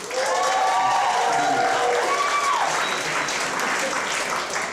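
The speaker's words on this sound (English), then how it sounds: "How about another round of applause for me?" Sustained audience applause fills a comedy club, steady and loud throughout, with a few voices and whistles rising over the clapping.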